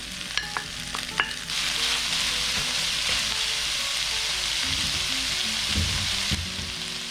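Shad fish goes into a hot pan with garlic and starts frying with a loud, continuous sizzle. A few clinks and scrapes of stirring come first, and the sizzle holds steady from then on.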